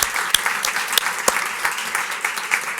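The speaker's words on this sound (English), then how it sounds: "So let's give these candidates some applause." An audience at a League of Women Voters candidate forum applauds the candidates with a steady patter of many hands and some sharper individual claps standing out, moderately loud throughout.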